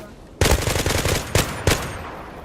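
An M4 rifle fires in the video game Zula: three loud, close bursts, the first a longer rattling string of rapid shots, then two short punchy bursts in quick succession.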